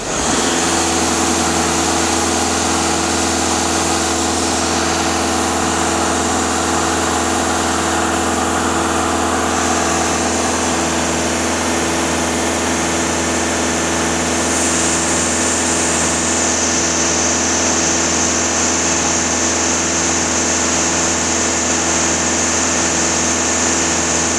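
Engine of a VW Touran with an EGR fault, holding a loud steady idle throughout with a slight rise in pitch partway through, close and continuous with no talk.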